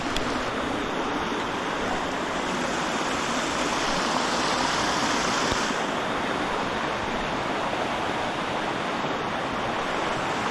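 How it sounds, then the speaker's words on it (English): Continuous rushing water from a flowing backcountry creek, a steady broadband wash with no voices, fairly close and even throughout. "Creek has risen a little bit."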